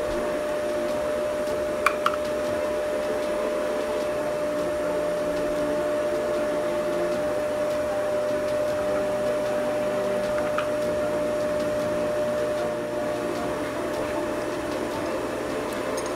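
A milling machine motor hums steadily with a constant tone while machining a tool post part for a Leblond lathe, with a few faint ticks and clicks over the drone.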